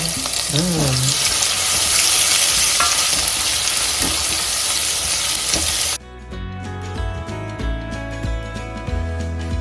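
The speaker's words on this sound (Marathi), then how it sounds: "कांदा कढीपत्त्याची छान फोडणी आपल्याला परतवून घ्यायची" Onion and curry leaves fry in hot tempering oil with a loud, dense, close sizzle for about six seconds, then the sound cuts abruptly to music.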